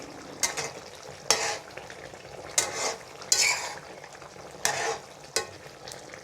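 Fish curry with garam masala being stirred in a pan, a spoon scraping through the thick mixture in about six distinct strokes over a soft sizzle, close and moderately loud, with no talking.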